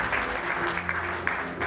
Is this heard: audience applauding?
yes